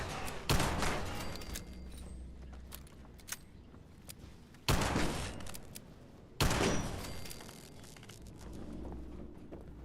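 Gunfire rings out in the video game Fallout 76, three sharp loud shots spaced a few seconds apart, each followed by a short rumbling decay, over a steady windy outdoor background with no talking.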